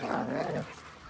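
A dog on an Amish farm lets out a close, loud growling howl lasting about a second, fading toward the end.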